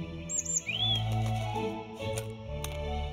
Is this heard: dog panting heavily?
no